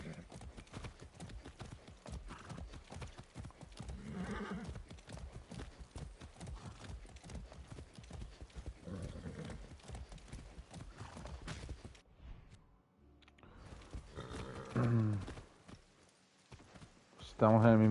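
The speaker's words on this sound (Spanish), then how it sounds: "Estamos en el mismo sitio, ¿verdad? Donde los caballos." Horses in the video game Far Cry 6, with steady rhythmic clip-clop hoofbeats throughout and a neigh near the end, while people talk over them.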